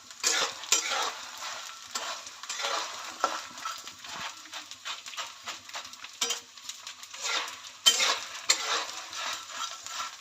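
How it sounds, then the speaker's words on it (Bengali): Steady crackling sizzle of edible gum (gond) frying in hot oil for gond ladoo, loud and continuous with bursts of popping throughout. "এখনো ফুটফুট করছে ফুটছে"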